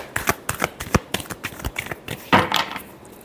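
A deck of cards is shuffled for a weekly Libra horoscope reading: a quick, close run of crisp riffling clicks and flutters, with a louder burst of shuffling near the end.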